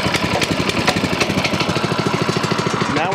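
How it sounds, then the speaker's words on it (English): A warm Frontier sawmill engine idles on choke after a restart, its close, loud, even chugging pulsing in a steady rhythm throughout with a slight rise at the end. "this engine likes the choke."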